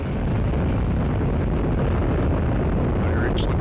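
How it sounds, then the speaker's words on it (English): Atlas rocket launching OSIRIS-REx, a broad, steady roaring rumble of engine thrust, loud and unbroken throughout, with no clear voices. "And liftoff of Osiris Rex"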